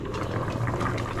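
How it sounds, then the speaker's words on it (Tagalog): Steady bubbling and simmering of paksiw stew in a pot, a continuous low churning with no voices. "Kumukulo na ang ating paksiw para makakain na rin kami"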